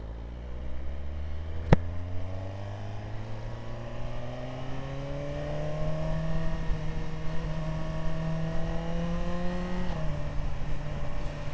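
A 2025 Suzuki GSX-R1000R sportbike engine holds a steady idle, then revs up with rising harmonics and drops back near the end, close and loud throughout, with a sharp click early on.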